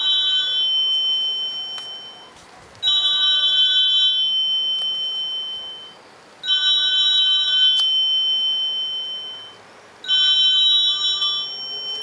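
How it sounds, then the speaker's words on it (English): A telephone rings in a room during a chat about Pokemon and trading cards, four loud electronic trill bursts spaced evenly a few seconds apart, each holding steady before cutting off, with no talk over them. "I don't need to answer that phone."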